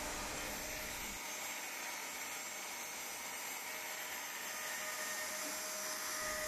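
Small router carving a traced design into hand-painted furniture, a continuous loud high-pitched whine with no pauses.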